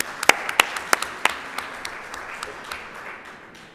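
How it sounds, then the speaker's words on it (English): An audience applauds at a symposium as a new national program director is called up, a few sharp, distinct claps at first, then steady scattered clapping that thins out over several seconds. "we can also give her some applause for becoming the director of the national program"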